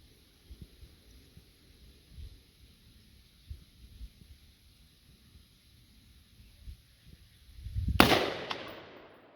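A .243 rifle fires at an outdoor shooting range: one sharp, loud report near the end with a ringing tail, preceded by faint handling thumps and light wind noise.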